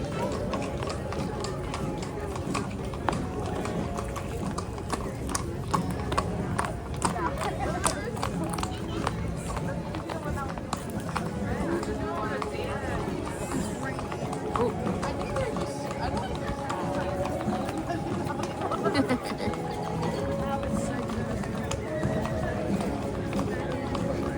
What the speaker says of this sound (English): we've watched the cattle drive